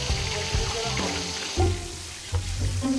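Tilapia fries in hot oil with a steady, close sizzle and crackle. Occasional clatters from cookware and brief voices break in over the frying.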